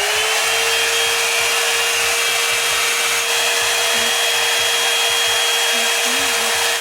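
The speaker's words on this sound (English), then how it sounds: "reach out for your blow dryer and blow dry that area just to make sure that it's completely dry" A hair dryer blows steadily at close range, a loud broadband rushing whoosh with a constant motor hum, continuous for several seconds before cutting off.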